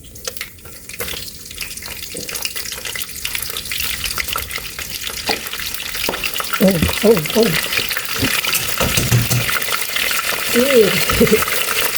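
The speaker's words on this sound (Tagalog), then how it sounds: "Prito ko na siya" Steady crackling sizzle of vegetables frying in a pan, loud and close, with occasional stirring and soft voices murmuring in the background.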